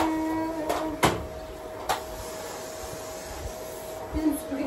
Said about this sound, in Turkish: Bizim süpürge bozdu herhalde ya.